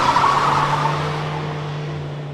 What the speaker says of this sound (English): They speed off. The car is slightly pinging and rattling as